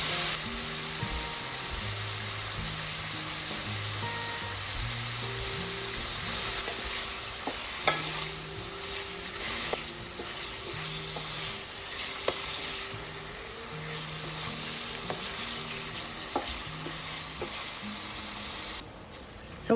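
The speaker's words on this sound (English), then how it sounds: "So I'm going to be adding the bacon, and I'll be slowly rendering those down until they're nice and crispy" Bacon renders in olive oil in a pan, a constant close sizzle and crackle with occasional stirring scrapes, steady throughout.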